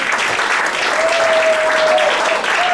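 Audience applause at a magic show fills the clip with steady, loud clapping from a crowd, and a faint sustained tone runs through the middle.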